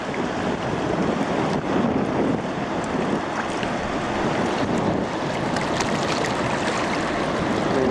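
Steady rushing wash of water churned by a large vessel, broadband and continuous, with wind buffeting the microphone throughout.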